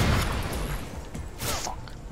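Grenade launcher blasts in Call of Duty Ghosts gun game, a few loud booming bursts with whooshing tails, close and dense, one near the start and another around midway.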